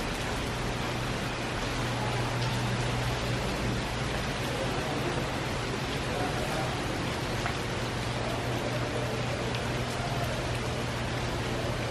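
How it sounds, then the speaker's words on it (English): Light drizzle falling steadily outdoors at Walt Disney World's Galaxy's Edge under a grey, stormy sky, a continuous soft hiss of rain without speech. "Bit of drizzle."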